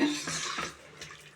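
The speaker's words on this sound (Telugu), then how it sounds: "ఇప్పుడు వాటర్ పోసుకుందాం." Water is poured into a cooking pot of homemade chicken curry, a short, soft splashing pour that fades quickly with nobody speaking.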